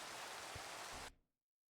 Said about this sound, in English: It's rain. We needed this.